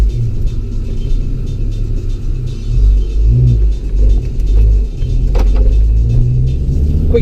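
A Ford Focus ST3 drives on a frosty night, heard from inside the cabin as a steady low engine and road rumble with slight rises in revs and occasional small rattles.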